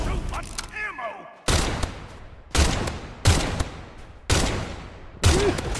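Heavy gunfire in the video game Pioner: five loud, close bursts of shots at roughly one-second intervals, each with a ringing tail, following a stretch of quieter game sounds.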